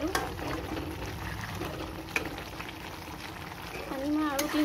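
Water splashes into a pan of Assamese pork curry frying in oil, setting off a steady hissing sizzle with bubbling, heard up close with some background voice.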